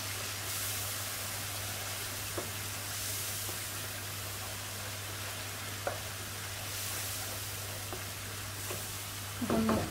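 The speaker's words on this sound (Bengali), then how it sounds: "হলুদার মরিচ পাউডার দিয়ে এখন আমি মিক্স করে নিলাম।" Turmeric and chili powder stirred and frying in a pan, a steady close sizzle with occasional scrapes of the spoon and a clink near the end.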